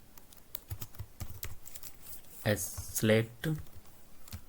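Light, rapid keyboard typing of HTML code on a computer, quiet clicks scattered in short bursts while someone speaks over them.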